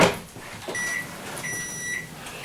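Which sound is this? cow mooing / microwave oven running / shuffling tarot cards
microwave oven running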